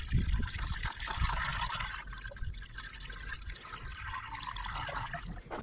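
Coolant pours into the cooling system of a Kia Soul, Forte or Rio during a thermostat replacement, a steady, fairly quiet trickling and gurgling that runs continuously with no talking.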